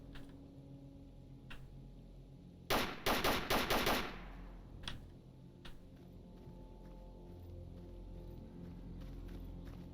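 A burst of rapid automatic gunfire from a first-person shooter video game, about a second of close, loud, chattering shots, followed by scattered single cracks and clicks over a steady low game hum.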